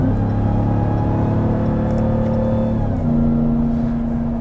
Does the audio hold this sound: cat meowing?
no